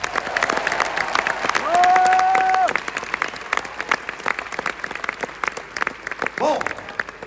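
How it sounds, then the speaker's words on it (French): A concert audience at the Palais Nikaïa in Nice claps and cheers for a metal band's support act, a lively patter of applause beneath talk from the stage, with a sustained tone and whoops rising midway. "on peut vraiment les applaudir encore une fois"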